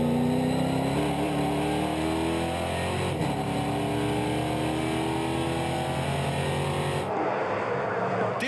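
Race car ridden by a Basque driver, engine roaring close from an onboard position, loud and continuous with rising pitch through the gears and an abrupt shift near the end.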